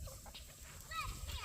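Farm chickens cluck softly in a few short, scattered calls, faint and fairly close, with a quiet low background rumble.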